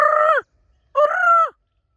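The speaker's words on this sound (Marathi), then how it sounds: "हा मोर आहे" A peacock gives two loud, clear, nasal calls in close succession, each about half a second long, with silence between and no talk.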